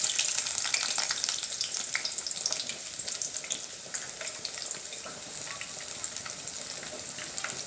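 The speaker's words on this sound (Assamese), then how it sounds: "তেলখিনি গৰম হৈয়ে আছে এতিয়া মই ইয়াত দিম পিঁয়াজখিনি" Onions sizzle in hot oil for a broccoli fry, with a steady, crackling sizzle and occasional stirring, heard close up and alone.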